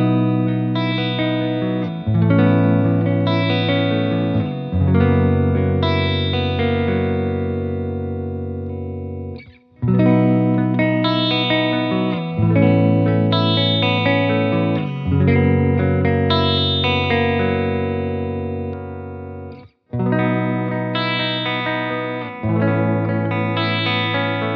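Aria Pro II 718-mk2 Brooklyn electric guitar with humbucker pickups plays loud sustained distorted chords with chorus and reverb, in phrases separated by two brief stops.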